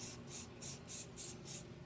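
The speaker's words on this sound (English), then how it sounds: "Spraying over my expander pans right here." OD green spray paint hisses onto a metal trap and its expander pans in six short, evenly spaced bursts, close but faint, with no talking.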